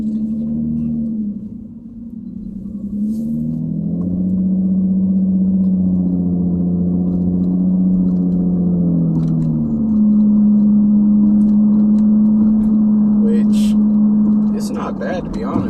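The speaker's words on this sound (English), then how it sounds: "When you get to highway speeds, you will notice that this car does drone." A 2011 Nissan Maxima SV with a custom exhaust drones steadily at highway speed, heard from inside the cabin: a loud, continuous low hum with shifting pitch and constant road rumble throughout.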